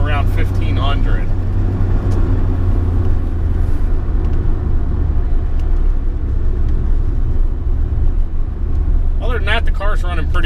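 A car engine drones with a low, steady rumble while driving, the car idling high with a suspected vacuum leak and worn suspension; someone talks briefly over it at the start and end.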